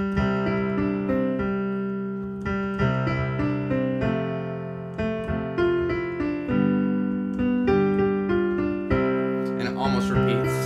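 Piano playing the verse of Jingle Bells, a clear melody with chords over a bass line, moderately loud and close, with no talking.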